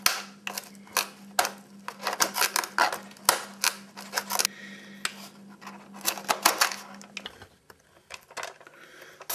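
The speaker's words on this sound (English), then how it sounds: "using the Stanley knife to cut up into this instrument panel" Stanley knife cutting into the instrument panel of an Art Tech Hobbyking P-51 Mustang model plane, giving a steady run of close, crisp scraping and snipping strokes that trail off near the end.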